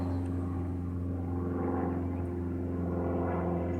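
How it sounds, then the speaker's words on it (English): A small propeller airplane passes overhead, giving a steady, continuous engine drone with a low hum that stays fairly even throughout, and no one talks. "Small airplane going over."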